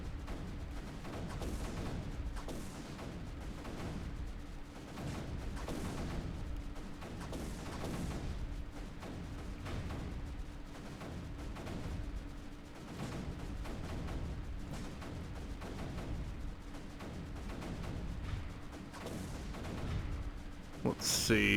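Cannons fire repeatedly in the strategy video game Creeper World 3: Arc Eternal, a steady run of thuds and bursts with a constant tonal hum beneath.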